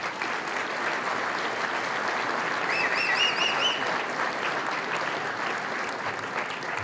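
Sustained audience applause fills a Lincoln Day dinner hall, a thick, even wash of many hands clapping at steady loudness, with a brief whistle cutting through midway.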